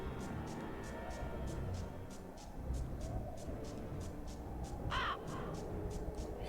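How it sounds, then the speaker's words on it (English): A crow in the Harry Potter PS1 game gives a long run of evenly spaced caws, with a brief louder chirping sound partway through, all over a steady background hum. "Totally not how a crow sounds."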